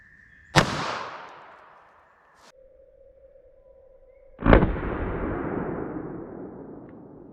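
Two sharp gunshots from a Smith & Wesson Shield EZ .380 ACP pistol fired into a ballistic test block, several seconds apart. Each is a loud, close crack followed by a long ringing, echoing tail.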